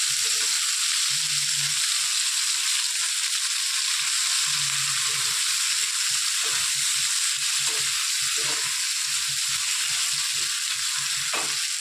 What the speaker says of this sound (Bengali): টমেটো, পেঁয়াজ, লঙ্কা কড়াইয়ে বসাই দিলাম, একটুখানি ভাজাভাজি করে তারপর পেস্ট করবো